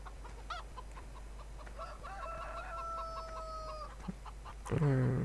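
Chickens clucking and a rooster crowing on a farm in Farming Simulator 2013, a drawn-out crow in the middle with scattered clucks around it, moderately near over a steady low hum, ending in a louder burst of clucking.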